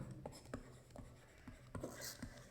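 A teacher writes an answer by hand for a class 10 English paper, giving quiet, intermittent scratchy strokes spaced through the moment with faint background noise and no talk.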